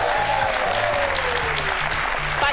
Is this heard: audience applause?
yes